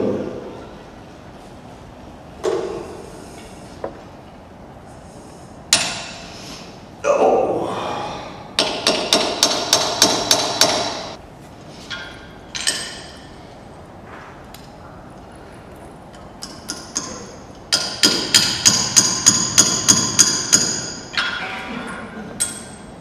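A series of sharp, rhythmic hammer blows driving a peg into wood in two bursts, each a quick run of ringing strikes, with scattered thuds and handling noises between them.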